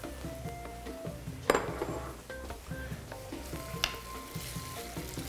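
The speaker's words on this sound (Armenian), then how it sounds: "Մեկ երկու րոպե թող հավի միսը եփվի" Chicken pieces fry in a pan for a spinach pasta, giving a steady sizzle close by with occasional metallic clinks and scrapes from stirring.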